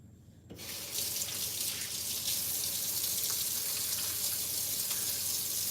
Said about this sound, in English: I'm going to wash my hand again